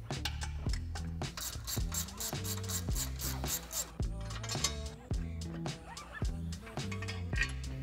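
Ratchet wrench removing the two 15 mm bolts from the front crash bar of a 2021 Ford Bronco, rapid clicking in bursts with scraping and rasping metal, close and steady throughout.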